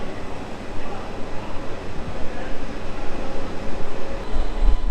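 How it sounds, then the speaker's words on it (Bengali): The 13113 Up Kolkata–Lalgola Hazarduari Express pulls away on schedule, a loud, steady rolling rumble heard from inside a carriage, with faint voices now and then. "ট্রেন অন টাইম ছাড়লো"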